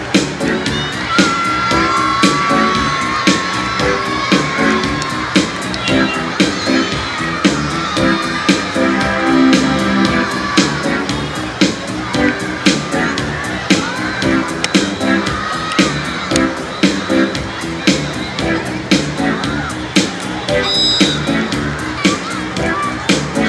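A large crowd of parents and children cheers and shouts steadily at a school sports meet, with whoops, scattered claps and bangs throughout, loud and continuous; a voice talks over the crowd at times.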